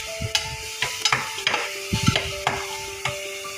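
Tomato being stirred and mashed in a sizzling pan while cooking aloo gobi, with repeated sharp spatula scrapes and knocks over a steady frying hiss, close and alone.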